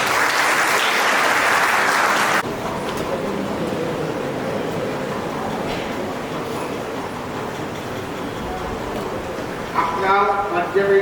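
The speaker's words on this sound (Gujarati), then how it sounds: "તાળીઓના ગડગડાટ સાથે" An audience at a college annual function in Anklav bursts into loud, dense applause that fills the opening seconds, then cuts off abruptly, leaving a murmuring hall and a voice starting near the end.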